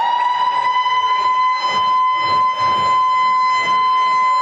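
A civil defense siren sounds in Brisbane's CBD on the 50th anniversary of Victory in the Pacific Day in 1995, marking a remembrance silence; a loud, steady wailing tone with a strong sustained pitch that holds throughout.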